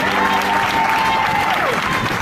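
A church congregation applauds at a worship service, a steady, dense wash of clapping that fills the whole moment, with a sustained tone ringing beneath it.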